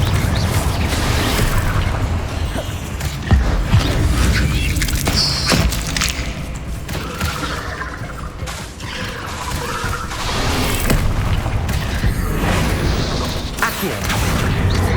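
Spell explosions and impact bursts during combat in the video game Hogwarts Legacy, loud and continuous with repeated crashes, booms and pops over a dense background of game sound and music.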